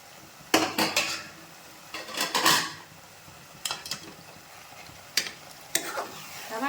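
Broad bean pieces tumble into a pan of softened tomato and are stirred, giving several short bursts of scraping and clattering over a faint, steady sizzle, with quiet gaps between strokes.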